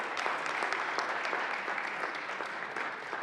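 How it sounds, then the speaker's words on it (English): A round of applause fills the Colorado Senate chamber, a steady, even wash of clapping from many hands that carries through without a break. "let's give them a great round of applause"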